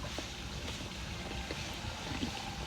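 Strong floodwater rushing under a bridge, a dense, steady roar with no letup, heard close and loud throughout.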